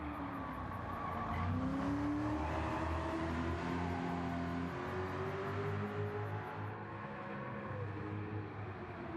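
A Camaro and a Mustang muscle car corner on a race track, engines droning steadily with rising and falling pitch as they sweep through turns, heard continuously at moderate distance for about nine seconds.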